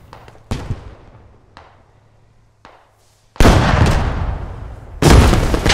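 Armored vehicle cannon fire in the video game Squad, a BMD-4 trading shots with a Leopard 2A6: several sharp, heavy blasts with echoing tails, then two loud sustained roaring bursts, close and powerful.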